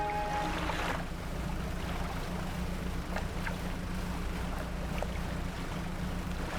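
A steady, low motor drone from a slow fishing boat in the video game Dredge runs continuously under lapping water and surf. There is no talking over it.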